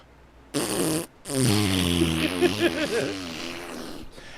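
A person's voice imitates a small dog's long fart, giving a short burst, a brief pause, then a drawn-out buzzy, sputtering blow lasting a few seconds.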